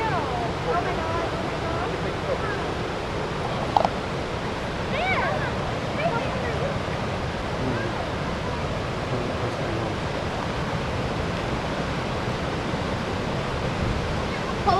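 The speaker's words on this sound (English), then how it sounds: "Look at that water coming across." Flash flood water rushes across a road at Greenbrier in the Great Smoky Mountains, a broad continuous roar with wind buffeting the microphone and a few faint voices underneath.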